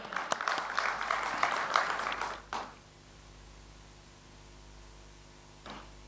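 An audience claps in welcome at a poultry federation gathering, a burst of scattered applause for a couple of seconds that quickly dies away into quiet room noise, with one faint final clap.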